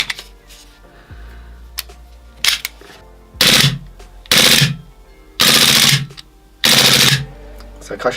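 Poseidon P18 EVO gas blowback airsoft pistol firing full auto: four short, loud bursts of rapid cracking shots separated by pauses, with faint handling sounds between.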